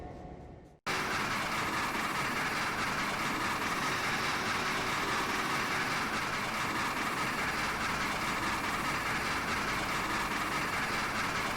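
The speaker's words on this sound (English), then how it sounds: "it's not very often that you get to see a steam engine run at track speed" A steam engine train in Trainz 2019 runs at track speed, giving a steady, loud, continuous rumble and rush that holds unbroken after a brief quiet opening.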